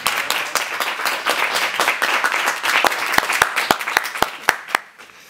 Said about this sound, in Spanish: tenemos aquí en la tarima Junior y no le hemos dado un aplauso